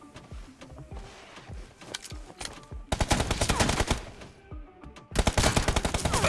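Rapid bursts of automatic gunfire in the mobile shooter BGMI during a 1v1 team deathmatch with M24 and M4 rifles, loud close volleys separated by brief pauses.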